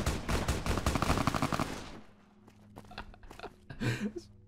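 Firing-squad gunfire in Fallout: New California, a loud, rapid volley of overlapping shots for about two seconds that cuts off, followed by quieter scattered clatter and a few softer thuds.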